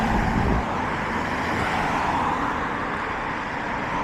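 Cars pass on a road in Dunedin, New Zealand, heard from an e-bike on a commute: steady roadway traffic noise, with a louder close vehicle at the start that fades into a continuous moderate rumble.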